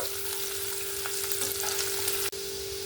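Onions fry in a pan with a dense, steady sizzle and crackle, cooked for a gourd and prawn kofta curry after a pinch of asafoetida goes into the oil, with one short dip in the sound near the end.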